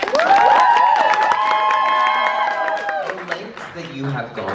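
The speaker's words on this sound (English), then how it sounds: "A round of applause for the biggest Shadowhunter fan here." Audience at a convention panel cheering and clapping, with loud whoops and shrieks that rise at once and hold, then thin out into scattered claps and chatter.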